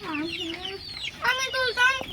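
A red laying hen clucks close by in a short run of throaty, rising calls, several clucks in quick succession.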